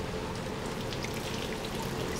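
Rain falling in the video game Little Nightmares 2, a steady, even hiss of dense drops pattering on surfaces, continuous and moderately loud with no voices.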